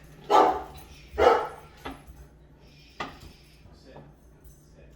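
A dog barks twice, loud and close, in a home kitchen, reacting as if someone were at the door, followed by lighter clinks and knocks of cooking dishes.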